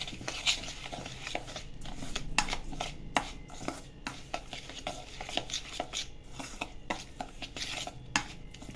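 A utensil scrapes and clinks against a metal bowl in a steady run of irregular taps while a semolina and potato batter mixed with salt and oil is stirred, close up with no talk.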